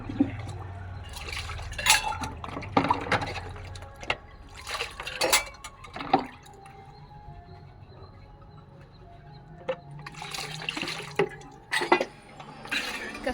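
Potted plants at a home are watered, with splashing, pouring and dripping water coming in intermittent bursts and quieter pauses between them.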